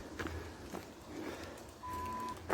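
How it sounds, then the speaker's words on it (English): A single steady electronic beep from the MapRun orienteering app at a control point, lasting about half a second, clear and fairly close, following soft rustling movement outdoors. "it seems to be that the beep goes off at the control feature"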